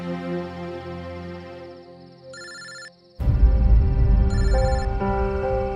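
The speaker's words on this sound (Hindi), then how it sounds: "घंटी तो अंदर ही बज रही है, इसका मतलब अंदर ही है।" A phone rings inside a locked house, electronic ringtone bursts repeating through the walls, then a louder musical ring pattern with background rumble takes over, with no voices.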